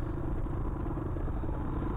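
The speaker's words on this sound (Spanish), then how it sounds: "Ahí los compañeros van aplicando el freno porque la verdad es que la moto se te barre." Motorcycles brake down a rough, rutted mountain trail in Mendoza, giving a constant loud rumble with rattling clatter and no talk.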